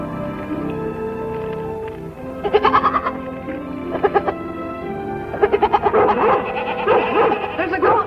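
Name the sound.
goat bleating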